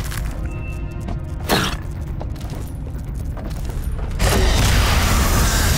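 A grenade blast in the sci-fi game Aliens: Dark Descent erupts as a loud, broad boom near the end, after a sharp thump partway through over a steady mechanical game rumble.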